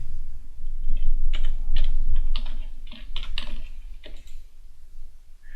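A run of keystrokes on a computer keyboard while entering a command in AutoCAD 3D, crisp clustered clicks in an irregular rhythm, close and alone with no talk.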